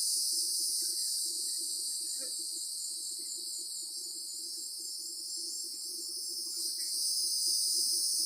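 A swarm of bees packed inside a box gives off a steady, dense buzzing hum that holds constant throughout, close and fairly loud, with faint rustling beneath and no talking.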